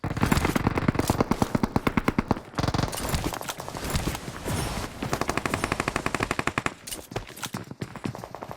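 Thompson submachine gun in PUBG Mobile firing long rapid bursts of loud, closely spaced shots, pausing briefly before resuming, with further sustained automatic fire through to the end.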